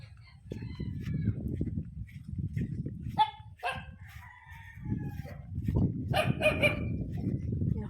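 A dog barks and yelps several times in short bursts amid rumbling background noise, with a rooster-like crow in the mix.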